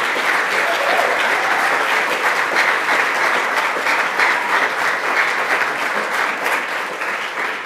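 Steady, dense applause from a large audience at an opening ceremony with cultural sharing through music, holding loud and even for the whole stretch with only slight swells and no break.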